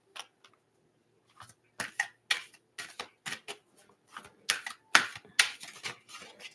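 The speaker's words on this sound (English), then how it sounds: "I'm going to have to make sure it's a good shuffle for you" Tarot cards being shuffled by hand: a series of quick, crisp riffling and slapping bursts in uneven rhythm, close and fairly quiet, with no talking.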